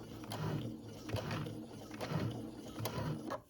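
A sewing machine stitches through fabric, then backstitches, in several short rhythmic bursts of fast mechanical whirring with brief pauses between, close and moderate in level.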